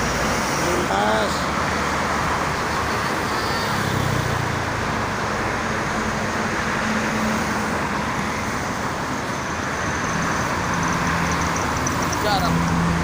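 Night buses and other traffic rush past steadily on the Jakarta-Cikampek toll road, a continuous loud roadway roar with a few passing swells, under a voice talking.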